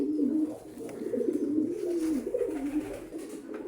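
A pair of Musaldom pigeons coo close by in a steady, rolling murmur that pulses continuously without pause, with no voices over it.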